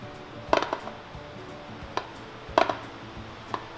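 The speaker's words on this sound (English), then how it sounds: "Use a bowl scraper because it will give you a cleaner cut than a knife." A bowl scraper cuts a tray of brownie into bite-sized pieces, giving a few crisp, separate knocks against the pan or board, some doubled, spaced by quiet pauses.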